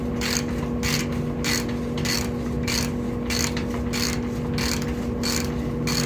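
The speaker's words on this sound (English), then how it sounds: "much quicker with a ratchet than using a wrench" A ratchet turns a bicycle bottom bracket tool with a rapid series of sharp, regular clicking bursts, close and clear, over a steady low hum, with no talk.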